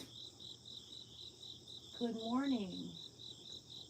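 Crickets chirp at sunrise in Pennsylvania, a continuous pulsing trill repeating evenly throughout, while a voice speaks a short greeting partway through over the insects.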